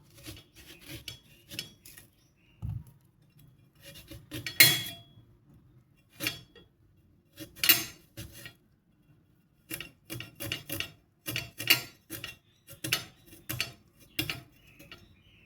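A knife chops raw mango into small pieces on a board, making repeated bursts of crisp scraping and tapping strokes, close and fairly loud, with short pauses between them.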